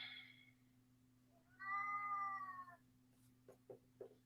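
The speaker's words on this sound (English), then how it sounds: "you hear the cat? The cat agrees." A cat meows once, a clear drawn-out call of about a second, close and loud against a low steady hum in an otherwise quiet room, with a few faint knocks afterward.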